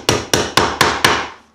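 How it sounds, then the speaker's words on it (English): The magnetic side of a hammer taps an upholstery tack into a wooden footstool frame: five sharp, evenly spaced knocks, close and loud, with no talk. "the magnetic side of my hammer to put the first hit in for my tack"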